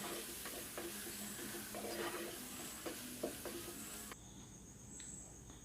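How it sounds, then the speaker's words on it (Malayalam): Masala with garam masala sautéed and stirred in a pan, a steady soft sizzle with scraping stirs throughout, quieter and thinner in the last seconds. "ഗരം മസാല കൂടെ ചേർത്തിട്ട് നന്നായിട്ടൊന്ന് വഴറ്റിയെടുക്കണം"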